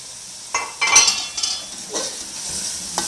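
Chicken already fried in spices, with chopped tomatoes and potatoes added, being stirred in a pan for biryani: scraping stir strokes and clinks of a utensil over a soft steady sizzle, close and moderately loud.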